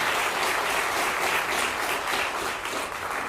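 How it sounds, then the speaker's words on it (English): A large crowd at an airport announcement event gives a big round of applause, thick sustained clapping filling the space without pause. "Give them a big round of applause"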